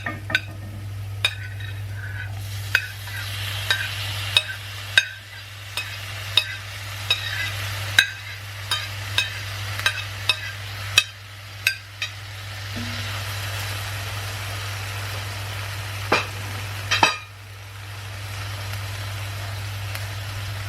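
Chopped tomatoes sizzle in a pan of curry paste as a spoon scrapes and knocks against it in an irregular rhythm, over a steady low hum.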